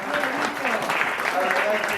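Audience applause at a political gathering in a party's local office, steady dense clapping sustained throughout the two seconds, fairly loud and close, with crowd voices mixed in.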